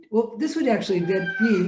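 A cat meows loudly and repeatedly up close, its drawn-out calls overlapping a person speaking indoors.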